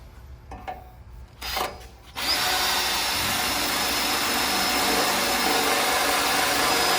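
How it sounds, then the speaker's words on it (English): A sustained, loud grinding power drill sound boring through a metal bracket on a 1969 Ford F100 starts after a couple of brief bursts and runs steadily for several seconds without pause. "We're just going to drill through those through the bracket"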